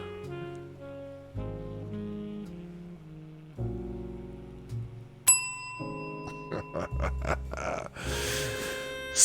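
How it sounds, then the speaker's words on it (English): A bell rung to greet the first arrival in a live late-night chat show, heard as a run of bright, sharp dings in the second half after quieter tonal music and low sounds. "You get the bell because you're here first."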